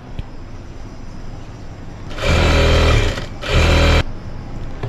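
Sewing machine stitching a line along cloth lining, running in two loud bursts of steady whirring with a short pause between, alone over quiet room noise.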